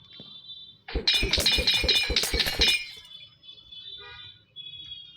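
A bottle o' enchanting shattering in a video game: a sharp burst of breaking glass with rapid clinking shards for about two seconds, then a faint tinkling tail.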